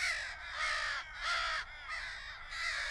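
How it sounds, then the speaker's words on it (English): Four harsh, loud crow caws ring out close by in a steady rhythm, each lasting about half a second, with no voices. "I wish I could shoot crows right now."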